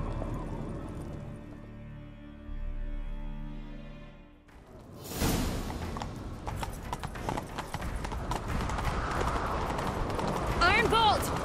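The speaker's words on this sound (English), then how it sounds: "Grab a horse, we'll chase him down." Horse hooves clip-clopping at a gallop in The Witcher 3 video game, a rapid loud rhythm that starts midway after music and continues to the end, with whooshing movement over it.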